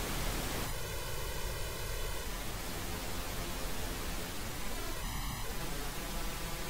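Steady broadband pink noise plays from left and right speakers, a dense even hiss that fills the whole clip, with faint tonal bands briefly running through it.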